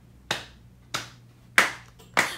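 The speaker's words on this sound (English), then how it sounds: "We are going to clap one, two, three times" Four sharp, close hand claps ring out at an even, deliberate pace in a quiet room, each with a brief decaying tail, part of a rhythmic clapping game in a kids' song.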